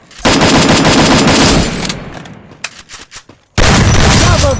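Video game gunfire: loud, close bursts of rapid automatic shots, a sustained volley that trails into scattered single shots and a short pause before another heavy burst.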